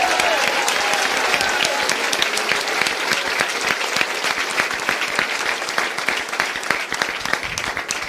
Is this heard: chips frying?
no